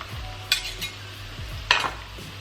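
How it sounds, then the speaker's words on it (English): Sliced pieces stirred in a cooking pan over medium heat, two bright scraping strokes of a utensil against the pan over a soft low sizzle, no voices. "we're gonna just give them a stir"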